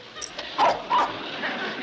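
A dog in a TV sitcom gives two short, sharp barks with small yips between them, close and moderately loud against quiet background.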